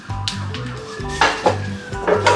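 A wok set down on a gas stove in a home kitchen, giving several close metallic clanks and knocks of pan against burner grate, with no talking.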